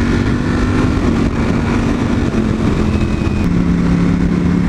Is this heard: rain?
no